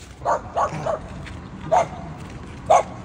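A dog barks in short yips, a quick cluster of three followed by two more spaced single barks, moderately close in an otherwise quiet space.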